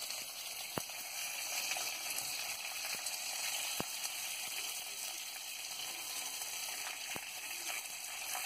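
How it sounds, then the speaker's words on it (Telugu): Stuffed brinjals sizzle steadily in a hot pan of oil with curry leaves, a continuous close frying hiss broken by a few sharp pops and crackles. "వంకాయల్ని నెమ్మదిగా ప్యాన్లో వేసుకోవాలి"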